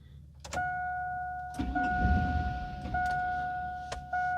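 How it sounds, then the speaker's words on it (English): A Chevy GMT800 pickup's starter briefly turns the engine over without it catching, a short low rumbling crank heard inside the cab under a steady two-tone dash warning chime, with a few clicks around it. "Crank it twice."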